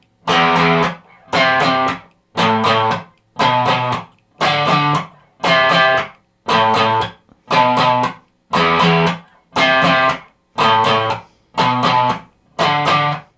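Distorted electric guitar picked with a pick plays an easy riff, a dozen evenly spaced chord stabs with short gaps between them, loud and close with no voices.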